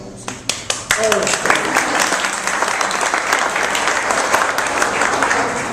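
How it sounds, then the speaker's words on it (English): Audience applause at a Tea Party gathering in Hartland, beginning with a few scattered claps and swelling into loud, dense, continuous clapping from a crowd. "You should all give yourselves a round of applause."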